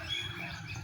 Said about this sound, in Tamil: குருவிங்களாம் அழகாக கத்துங்க.